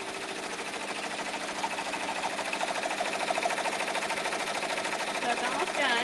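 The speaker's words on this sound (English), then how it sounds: "let's go over to the embroidery machine, and we'll check on our monogram." An embroidery machine stitching a monogram onto a pot holder, a steady fast mechanical whir and needle chatter running continuously at close range.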